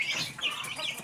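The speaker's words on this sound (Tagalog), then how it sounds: "Kung may alaga tayong manok, ayan na po." Quick, fairly close clucking and squawking from backyard pet chickens, White Kelso breeding birds, a short busy burst of fowl calls at low level.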